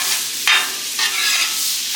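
Garlic butter shrimp cooking on a Blackstone griddle: a bright, steady sizzle with a couple of sharper bursts as the shrimp are turned over, close and loud, with no talking.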